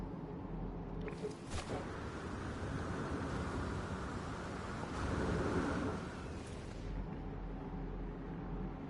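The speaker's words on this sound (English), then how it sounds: "Painfully hot rain." Heavy rain and rumbling thunder in the video game No Man's Sky, a steady loud downpour with deep booming thunder swelling in the middle and no talking.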